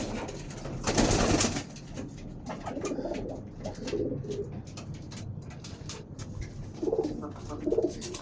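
Pigeons coo in soft, repeated low calls throughout, close by in a loft where eggs have been laid, with brief rustling and faint background noise.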